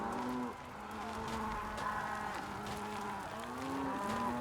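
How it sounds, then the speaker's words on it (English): Cows mooing in the video game Elder Kings 2: several drawn-out, low lowing calls overlap across the scene at a moderate distance, with no talking. "Alright, these cows are so obnoxious."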